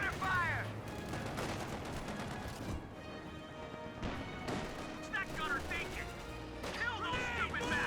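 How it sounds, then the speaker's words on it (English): Rifle grenade in the Company of Heroes 2 strategy game, amid a busy battlefield of rattling gunfire, cracks and blasts that run continuously at moderate loudness, with brief chirping effects layered in. "Horrible rifle grenade."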